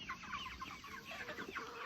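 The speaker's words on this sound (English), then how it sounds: "There's my rooster of the hour right there" A homestead rooster clucks in a steady run of short, repeated calls, fairly close and moderately loud over a constant background hiss, with no talking.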